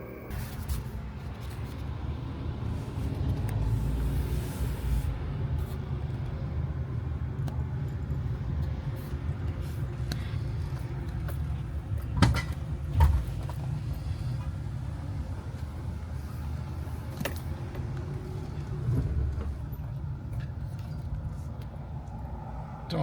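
A car with a manual transmission drives along, giving a steady low engine and road rumble from inside the cabin, with a few faint clicks and small bumps over the engine drone.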